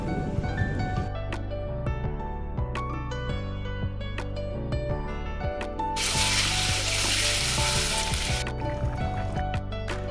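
Chicken is cooked down in a pan for a home-style curry with potatoes, with a steady, close sizzling and frying hiss throughout and a brief louder surge of spattering in the middle.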